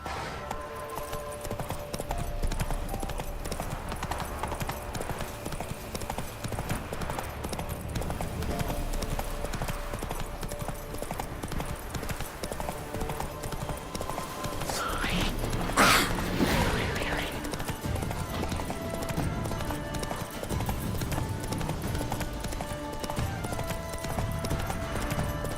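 Roach, the horse in The Witcher 3: Wild Hunt, gallops with a continuous, driving hoofbeat rhythm over game ambience and music, with a louder clattering burst midway and occasional speech.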